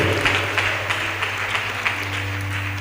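A church congregation claps together in a fairly loud, rhythmic wash of applause during a worship service, with no talk over it.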